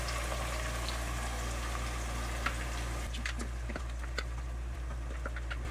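Chopped pepper sizzles in hot oil for Liberian hot pepper sauce, a dense continuous frying crackle with scattered sharper pops over a low steady hum.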